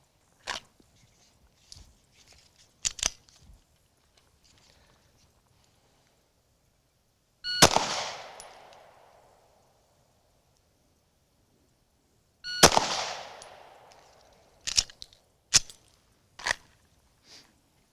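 Live pistol shots fired on a range during a trigger-press drill come as sharp, isolated cracks at spaced intervals, each followed by a short decaying echo, with fainter clicks and handling noises between them.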